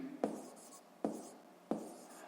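A pen scratches across paper in three short strokes, each a sharp close onset fading quickly, evenly spaced in a quiet room.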